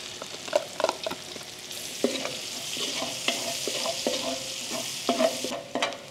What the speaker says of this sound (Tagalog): So, magsimula tayo sa bawang. Then, sunod natin yung sibuyas.